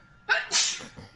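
A single loud, close sneeze bursts out with a sharp onset and a trailing breathy release, followed by a faint exhale in an otherwise quiet indoor room during a podcast.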